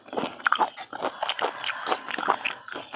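Close, crisp crunching and biting while eating boiled snails in a spicy Isan-style dish, irregular bites and chews repeating steadily at close range with no talk.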